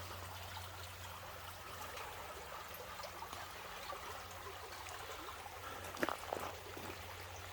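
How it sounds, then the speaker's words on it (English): Small creek flowing beneath a bridge at Flaming Geyser State Park, a steady soft trickle and gurgle of water with low rumble, a couple of brief splashy accents near the end, no voices. "I just love the sound of little creeks like this, or streams."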